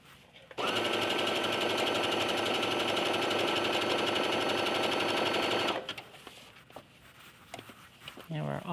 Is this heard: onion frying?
no